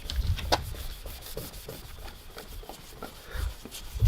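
Turtle Wax compound is rubbed onto a car headlight by hand, making a soft, close, scratchy friction sound in repeated back-and-forth strokes at low volume.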